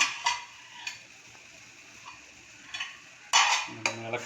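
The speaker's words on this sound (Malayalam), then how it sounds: "ഇളക്കി കൊടുക്കുക." A spoon stirs a boiling Ayurvedic immunity drink in a pot, giving sparse, faint metallic clinks and scrapes against a low bubbling background.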